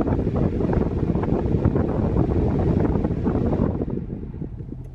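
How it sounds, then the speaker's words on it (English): Steady broadband rush of air blowing from the air conditioning fan of a 2019 Subaru Crosstrek, loud and constant, then tapering off near the end with no talking. "This is on air condition. It's windy and it's cold and it's working"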